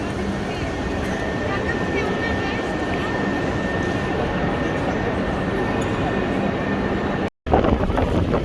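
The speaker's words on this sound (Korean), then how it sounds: "아, 바람이 세게 불고 있습니다" A strong wind buffets the microphone outside Paris Nord railway station, giving a loud, continuous rumbling roar. The noise cuts out briefly near the end, then gusts again.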